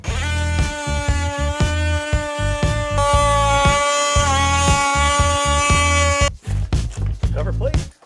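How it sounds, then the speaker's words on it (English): A handheld buzzsaw cutting out drywall during a kitchen remodel, a loud, close, humming whine that stutters in rapid pulses and shifts pitch slightly, then cuts off and leaves scattered clunks and handling noises. "Let's get our buzzsaw out"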